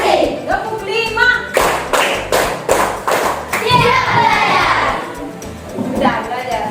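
A standing class of children claps through a rhythmic clapping routine in a school lesson, a run of loud, sharp, regular claps followed by chatter and voices of kids and an adult.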